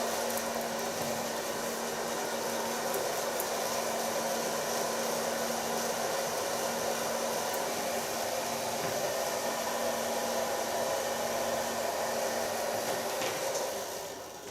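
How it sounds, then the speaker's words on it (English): A hair dryer runs steadily throughout, a loud continuous blowing whoosh with a faint motor hum as hair is blow-dried into a pixie cut, with no talk over it. "So far blow drying."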